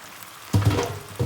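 Pasta gets tossed into fresh tomato sauce in a hot pan over high heat, starting with a sudden wet sizzle and splash about halfway through, then softer sizzling and a brief second burst at the end.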